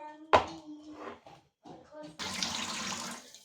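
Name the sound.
running water rinsing food in kitchen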